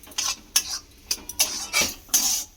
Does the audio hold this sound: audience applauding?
no